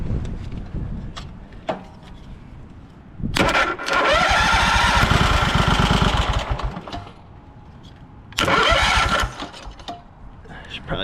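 An old, beat-up tractor engine sputters to life twice, each start swelling into a loud, rough running roar. Between the bursts, people talk and the engine dies back.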